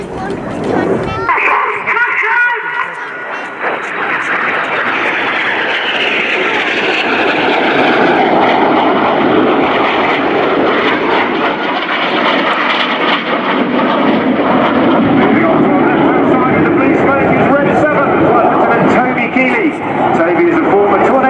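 RAF Red Arrows jets cross in front of the crowd at RIAT 2018 during the opposition barrel, descending with a closing speed of over 700 mph; a loud, sustained roar of jet engines builds and holds throughout.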